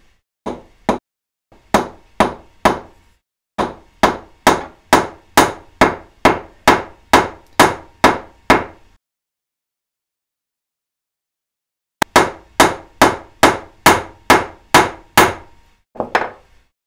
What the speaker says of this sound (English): get my little hammer again